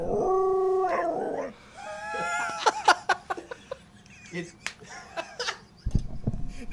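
A dog lets out a long, wavering howl up close, then breaks into yips and short whimpering cries with brief pauses between them.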